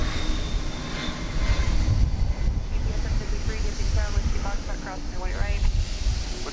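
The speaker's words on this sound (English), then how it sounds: "A 20-year-old A300. From Miami International Airport." A 20-year-old Airbus A300 at DFW Airport sends out a loud, continuous jet engine roar with wind buffeting the microphone, while someone talks over it.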